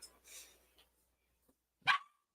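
Dog barking indoors, a few short yips and one sharp, loud bark near the end, separated by brief quiet.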